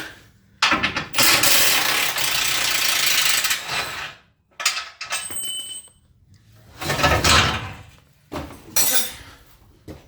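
A ratchet wrench works on large subframe bolts under a car, sounding as loud close bursts of rapid mechanical clicking with metallic clinks between them and short pauses.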